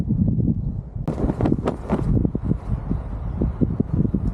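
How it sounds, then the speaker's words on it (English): Gusty northwest wind at a lake, a low rumbling buffeting that swells and drops in irregular bursts, loud and close with a brief rustling rise partway through and no talk. "the winds from the northwest just kicked up"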